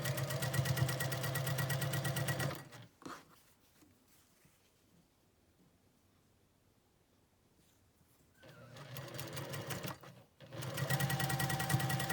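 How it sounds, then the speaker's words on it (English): A sewing machine piecing a quilt block runs in two close bursts of rapid stitching, the first stopping at about three seconds and the second resuming after a quiet gap. "You sew these just the same way you did that original 4 patch block."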